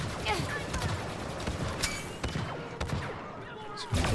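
Gunfire from the video game Star Wars Battlefront 2, a steady stream of shots and explosive bursts under game noise, with talking over it.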